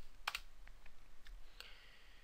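Typing on a computer keyboard, a few faint, quick key clicks scattered over two seconds against quiet background noise.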